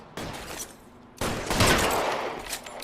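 Video game gunfire: a short burst of shots, then a louder, longer volley of rapid gunfire close up, with no talking.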